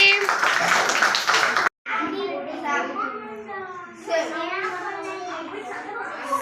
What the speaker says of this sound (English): Clap to A team.